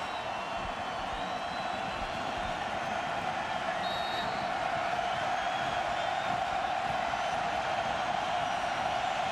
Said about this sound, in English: UConn crowd into it. Husky fans wanting to stop here.